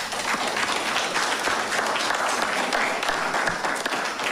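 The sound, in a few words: applause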